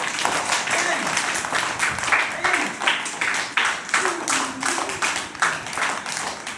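Schoolchildren clap together in an in-out warm-up game, a steady run of sharp group claps under a leader's chanting voice.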